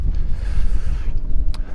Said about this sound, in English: So I hope you can hear because it's quite windy